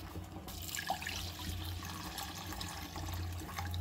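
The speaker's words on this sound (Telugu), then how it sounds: "ఇప్పుడు ఇందులో కొంచెం వాటర్ వేద్దాం." Water poured into a cooking pot while making pepper rasam, a steady continuous splashing rush of moderate loudness with no talking.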